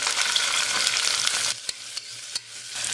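Onion sautéing in hot oil with mustard seeds, garlic and curry leaves, a dense sizzle for the first half that drops to quieter frying with a few sharp scrapes and clicks of a spoon against the pan.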